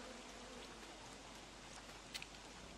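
Rain falls in the video game Don't Starve: Reign of Giants, a dense, steady hiss of pattering drops that fills the whole stretch, with a faint brief click near the end and no speech.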